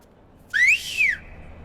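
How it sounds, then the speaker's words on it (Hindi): A person whistles in a courtroom: two short, bright rising-and-falling notes, loud and close, set against a quiet room. "मैं सीटी भी नहीं मार सकता"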